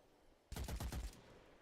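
Rapid burst of rifle fire in the Witchfire game, about six sharp shots in quick succession after a quiet lead-in, loud and close with a short tail.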